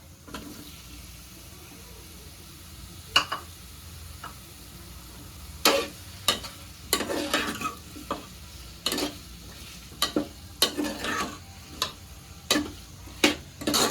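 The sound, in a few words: tomatoes sautéing in pan for prawn gravy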